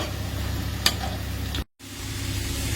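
Sliced onions for chicken biryani frying in hot oil, a steady close sizzle with faint stirring and one sharp clink of a utensil partway through, then a momentary cut before the sizzle carries on.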